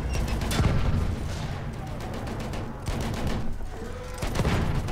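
Battlefield 1 gunfire rattles in dense, continuous volleys with scattered sharp reports and booms, loud and chaotic throughout the battle.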